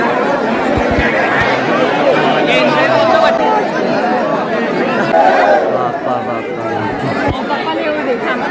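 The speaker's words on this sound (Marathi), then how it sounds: "एवढी गर्दी करून ठेवली." Dense crowd chatter inside a packed temple, many overlapping voices forming a continuous, loud hubbub with occasional laughter close by.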